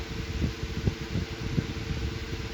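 An antique Robbins and Myers 1153 six-blade table fan with a slightly worn bearing runs steadily, giving a broad airy whoosh with a faint rhythmic rumble and a thin high whine.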